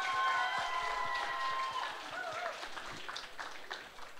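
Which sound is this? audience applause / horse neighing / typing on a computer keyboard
audience applause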